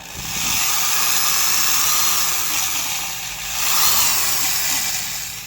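A half-century-old Skil 223 3/8-inch heavy-duty variable-speed drill with a dry bearing runs continuously with a harsh, raspy whine that rises and falls slightly as its speed changes, loud and close.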